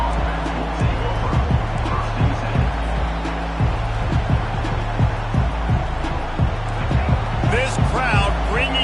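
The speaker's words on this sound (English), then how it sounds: "This crowd bringing an ear-splitting welcome to their visitors." Dense crowd roar at a South Carolina college football game, a loud steady wall of cheering with thuds and shouts rising through it, while an announcer talks over the noise.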